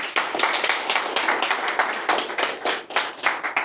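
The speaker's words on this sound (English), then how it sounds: "We all give Tom a really big round of applause" Audience at a coworking event applauding a speaker, a lively burst of many hands clapping with uneven rhythm and sharp individual claps standing out, sustained and fairly close throughout.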